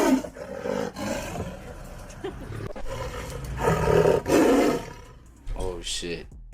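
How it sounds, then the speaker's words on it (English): A tiger's deep, rumbling roar swells repeatedly over several seconds, loud and close, with excited people talking and reacting over it. "That's the tiger."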